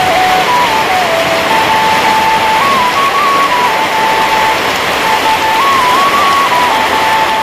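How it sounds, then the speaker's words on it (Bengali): Heavy rain pours down outdoors on a street where the runoff flows like a river on both sides, a loud, unbroken hiss throughout with a faint wavering tone above it. "দেখো কী লেভেলের বৃষ্টি হচ্ছে, প্রচুর বৃষ্টি হচ্ছে, প্রচণ্ড বৃষ্টি"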